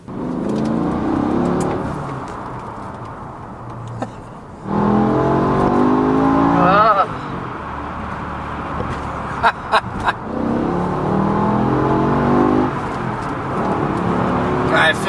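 A BMW E60 M5 with a V10 engine accelerating hard with M mode engaged, a loud, steady engine roar rising and falling through gear changes from inside the car, with voices talking over it.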